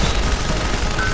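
Dense gunfire from the video game Deus Ex: Human Revolution, a sustained loud burst of rapid shots filling the whole moment with no pause or talk.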